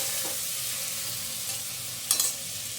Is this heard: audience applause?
no